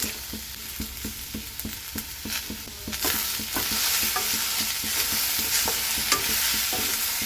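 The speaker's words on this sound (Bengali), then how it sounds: "এই যে ভাজা হচ্ছে, এবার নুনটা দিয়ে দিই।" Vegetables with peas fry in a pan, a loud steady sizzle broken by regular rhythmic scrapes of a spatula stirring, the frying growing hotter and louder midway, with no voices.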